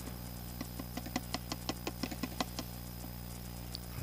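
A 2025 Kawasaki KLX 300 motorcycle engine idling, with a faint low hum under a regular run of light ticking knocks that fades out near the end, heard close with no talking.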